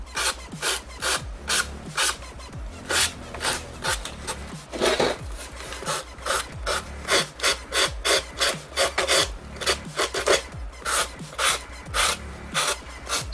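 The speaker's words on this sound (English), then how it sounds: "the hot glue will sand a little bit, but it's just not as easy as the foam board by itself" Foam board coated with hot glue being sanded by hand, a steady series of close, raspy rubbing strokes in a brisk back-and-forth rhythm lasting throughout.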